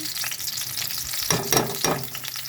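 Garlic goes into a hot pan for mung bean stew and sizzles loudly, a dense crackling hiss that flares with a few bursts as it is stirred, with no talking.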